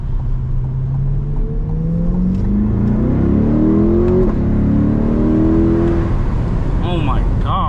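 A Chevrolet C8 Corvette in sport mode accelerates hard from inside the cabin, its engine note climbing through gears in loud rising sweeps, with people talking over it.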